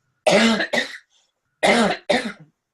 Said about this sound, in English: I don't want to cough over what you're saying.